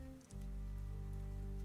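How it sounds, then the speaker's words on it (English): Heavy rain pours down on the thick slate roof of an old stone cottage, a steady dense wash of drumming that settles in after a brief lower rumble at the start, with no voices. "the heavier, more percussive impact of the main downpour on the thick slate roof above"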